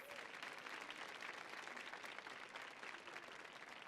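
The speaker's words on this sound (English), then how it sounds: "Can we give her a round of applause, please?" Sustained audience applause at a World Bank Group event hosted with Chef José Andrés, a dense, steady wash of many hands clapping, even in loudness throughout with no voices over it.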